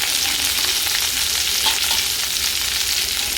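Four chopped green chillies fry in hot oil in a pan for a paneer chilli gravy, giving a loud, steady, close sizzle with light stirring throughout and no voices.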